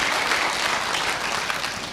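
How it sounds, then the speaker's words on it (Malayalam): Strong, steady applause from an audience at a Malayalam talk, dense clapping holding at an even level for the full two seconds with no voices over it. "മുഹമ്മദ് കാക്ക് ഒരു ശക്തമായ കൈയടി കൊടുക്ക്"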